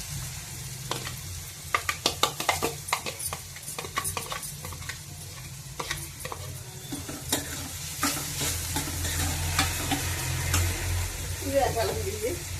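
Seasoning spices frying in hot oil in a pan for a Telugu taro and brinjal curry, with steady sizzling broken by close spoon-stirring scrapes and clinks, the frying growing louder toward the end.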